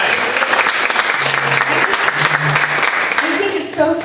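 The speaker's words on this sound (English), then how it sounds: "give these two gentlemen a huge round of applause" A round of applause from members at a Rotary club meeting, sustained clapping from a roomful of people that tapers off near the end as voices come in.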